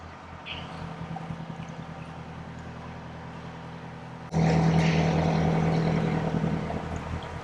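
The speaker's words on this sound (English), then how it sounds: "Let's get the engine going a bit quicker so we can get through." Narrowboat engine on a canal near Braunston Tunnel, a low steady chugging idle that suddenly jumps to a louder, higher-revving drone and holds there.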